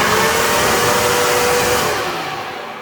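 A Worx WG583E 40V brushless garden vacuum runs close and loud with a steady high-pitched motor whine and airflow roar, slightly easing off toward the end.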